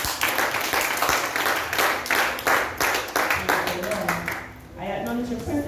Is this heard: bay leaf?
no